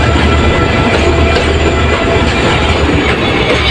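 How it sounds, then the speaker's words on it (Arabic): A train passes close by, loud and continuous with a steady rumbling roar and rhythmic wheel clatter throughout, no voices heard. "شايل القطر بصوا يا جماعه القطر."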